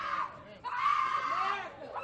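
People scream in a played video, a sustained high-pitched shrieking with a brief break partway, mixed with voices.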